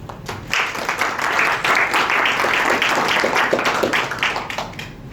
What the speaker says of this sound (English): Can we give a round of applause once again, please?